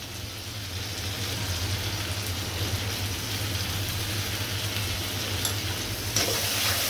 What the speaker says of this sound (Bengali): এখন চিংড়ি মাছ পেঁয়াজ আমি কিছুক্ষণ ভেজে নিব।